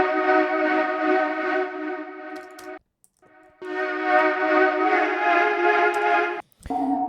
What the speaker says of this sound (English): with the tremolator, it sounds like this